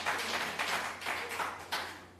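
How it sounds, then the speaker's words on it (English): A modest round of applause for a government minister after a presentation at a livestreamed hospital solar project event, somewhat distant and fairly quiet, with a few swells over about two seconds. "I again invite you to just extend a round of applause to the Minister for that presentation"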